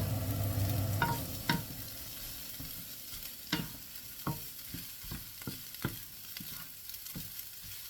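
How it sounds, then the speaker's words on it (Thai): Butter-coated rice and vegetables being stir-fried in a pan for American fried rice: a low steady sizzle broken by scattered scraping and clacking spatula strokes, some sharp and loud, others softer, close by with no talk. "เราจะทำการผัดข้าวกับ ผักที่ใส่ลงไปก่อนหน้านี้ให้เข้ากัน"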